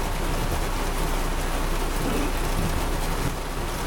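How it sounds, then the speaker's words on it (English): Heavy rain during a storm pours down in a dense, constant hiss of drops striking surfaces, loud and unbroken for the whole stretch with no talk. "Rain, rain, go away."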